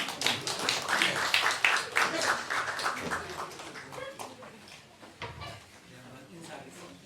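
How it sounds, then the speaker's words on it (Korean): A church congregation clapping for a departing couple, a scattered round of hand claps that is loudest early and thins out, with a voice speaking over the quieter tail. "우리 한번 박수 할까요?"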